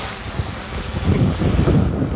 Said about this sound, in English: really windy out here right now.